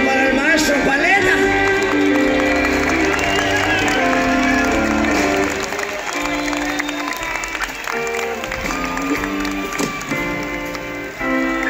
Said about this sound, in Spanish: aplauso para el maestro Paleta